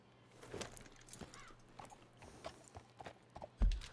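Horse hooves clip-clop on the ground in the Red Dead Redemption 2 video game, set in West Elizabeth, a steady walking rhythm at moderate distance ending in a heavy thud.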